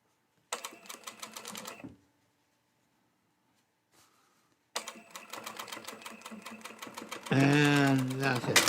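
A sewing machine stitches fabric in rapid mechanical bursts, a short run, a pause, then a longer stretch of quick clatter, with a person talking over the end.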